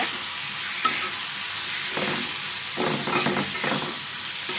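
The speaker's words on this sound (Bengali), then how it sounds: "এখন আমি এটাকে নাড়াচাড়া দিয়ে নিব" Tomato bhaji frying in a pan with salt, stirred by hand: a steady close sizzle with several soft scraping stirs at intervals, no voices.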